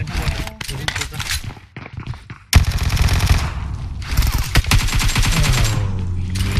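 Rapid gunfire bursts from the video game PUBG Mobile, dense volleys and machine-gun rattles crowding the scene, loud and close, with short pauses before a heavier sustained barrage.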